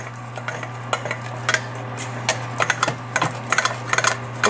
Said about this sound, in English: you're gonna mix that in and just stir that all together